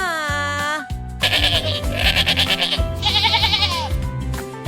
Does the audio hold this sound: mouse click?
no